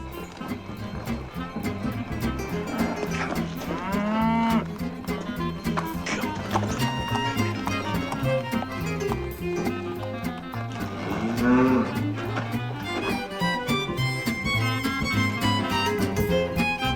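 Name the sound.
cow mooing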